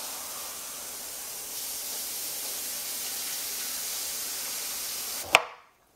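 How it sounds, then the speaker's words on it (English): Rice sizzling in a pan after water is added, a steady hiss of steam that holds for several seconds and then cuts off with a brief clatter. "You hear it sizzling?"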